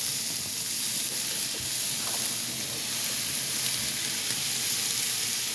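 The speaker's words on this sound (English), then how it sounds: "Hopefully all you hear that sizzling of the steak." Steady sizzling hiss of steak frying in a hot pan, continuous and fairly close, with a few faint clinks in the background.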